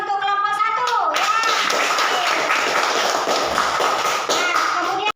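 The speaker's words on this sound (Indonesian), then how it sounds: "Kita beri aplaus untuk kelompok 1." A classroom audience claps for the first presentation group, dense close applause rising after a brief spoken voice at the start and continuing steadily for several seconds.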